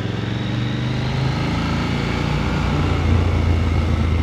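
KTM Duke 890 L, an 800 cc motorcycle, with its engine droning steadily and loudly at close range while riding on small roads in the hills above Nice, pitch shifting slightly as it goes.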